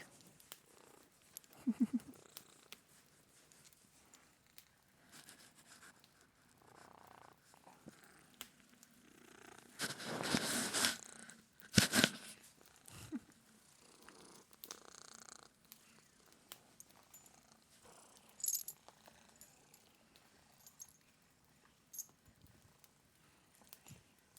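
A cat settled in a lap purring softly for a long stretch, a low continuous rumble close by, interrupted by louder rustling and shuffling in the middle.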